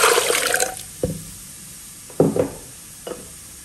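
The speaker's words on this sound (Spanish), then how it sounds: "Voy a agregar el jugo de naranja." Orange juice poured into a pot, starting with a burst of splashing liquid, then a few short, separate pours and splashes trailing off, close and clear with no talking.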